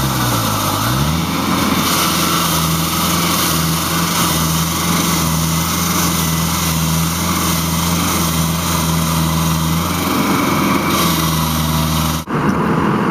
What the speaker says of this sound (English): one of our top operators, Keith Genichek, using the Husqvarna 6600